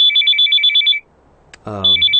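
A mobile phone ringtone plays as a rapid, bright electronic melody. It stops for a moment while a voice briefly speaks, then starts again.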